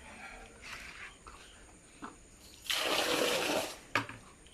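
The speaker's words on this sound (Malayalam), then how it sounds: "കാട്ടിക്കളയുമ്പോൾ വെള്ളം വേഗം തന്നെ കാട്ടിക്കളണം." Water gushing out quickly from a pond being drained into a field, a loud rushing burst rising in the middle after quieter trickling and splashing, with a sharp splash near the end.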